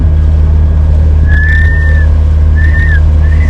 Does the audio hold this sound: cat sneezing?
no